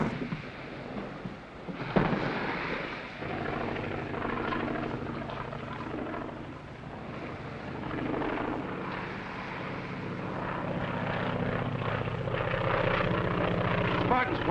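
An airplane's propeller engine drones steadily in a 1940 adventure film scene, a low rumbling hum that swells and fades slightly under background sound.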